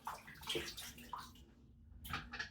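Running tap water wets the knot of a shaving brush, a soft hiss and patter that runs for about a second and a half, pauses, then returns briefly.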